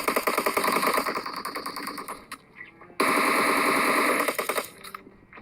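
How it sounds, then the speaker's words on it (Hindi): Rapid automatic gunfire in a shooting video game, heard as two loud sustained bursts of rattling shots separated by a short lull. "मैंने इस बंदे पे फायर किया और ये बंदा नॉक भी नहीं हुआ।"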